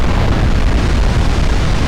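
A flash fire explosion on a warship in the naval battle game Ultimate Admiral Dreadnoughts, a steady heavy rumbling roar with deep low-end boom that holds loud and even throughout, no distinct separate blasts.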